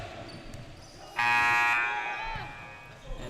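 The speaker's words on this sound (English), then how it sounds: "Buzzer." An electronic buzzer sounds at a men's adult league basketball game in a gym, a single loud blare of about half a second that fades out over court noise and ball bounces.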